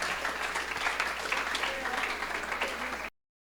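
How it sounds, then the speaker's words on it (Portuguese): A steady round of applause from a school audience for students who took part in a class presentation, dense continuous clapping at moderate distance that stops abruptly. "pedir mais uma salva de palmas para todos que participaram aqui"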